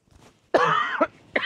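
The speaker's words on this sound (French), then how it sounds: "je tousse encore beaucoup" Two or three harsh, close coughs in quick succession, loud against an otherwise quiet background.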